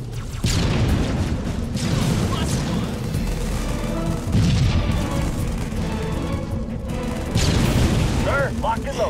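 Grenade blasts and gunfire in the real-time strategy game Halo Wars, heard as repeated loud booms and crackling shots in a dense, continuous battle mix, with soldier voice lines over it.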